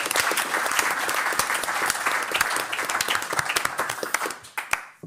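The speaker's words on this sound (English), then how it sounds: "give a warm applause for this round of conversation" A conference audience gives warm applause after a panel conversation on designing technology and the future of AI. The clapping is dense and continuous, then thins to a few scattered claps near the end.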